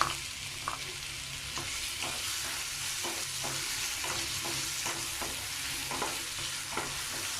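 Diced potatoes frying in hot oil in a pan, a steady sizzle and crackle with repeated scrapes and stirs of a spatula at close range, no voices.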